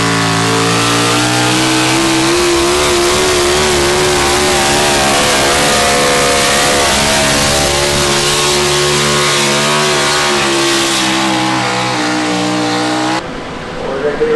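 A 4x4 truck pulling at a county fair truck pull, its engine roaring loud and sustained with a steady droning tone for about thirteen seconds before suddenly dropping off.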